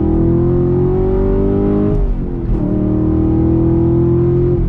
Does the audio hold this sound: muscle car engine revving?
yes